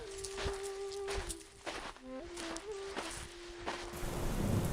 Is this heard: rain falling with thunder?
yes